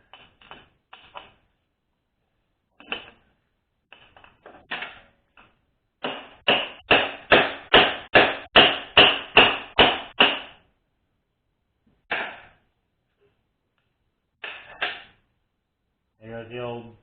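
Old bushing being tapped out of a 4L60E transmission: sharp metallic hammer strikes, a few scattered taps then a rapid steady run of about a dozen blows, close and loud, with brief pauses between bursts.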